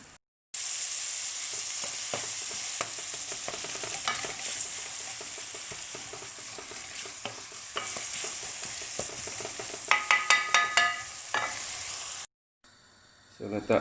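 Chopped tomatoes fry in a pan for vegetable noodles, with loud continuous sizzling and quick clattering stirs that grow busier near the end. A short pause follows, then the frying resumes.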